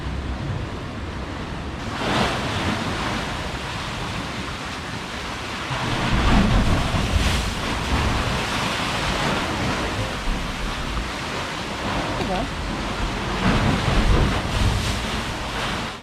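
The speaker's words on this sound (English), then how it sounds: "Thunder Hole, which is a small cavern that the waves crash into, making a loud thunder sound" Ocean waves surging into the small Thunder Hole cavern on the Acadia coast in Maine, a loud, rumbling roar with booming swells and heavy wind buffeting the microphone, no voices present.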